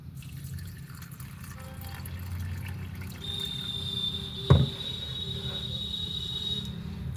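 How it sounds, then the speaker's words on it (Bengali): Lentils (dal) being washed in water: quiet trickles and drips at close range, with one brief louder splash midway. "ডালটা আমি ভালো করে ধুয়ে নেব।"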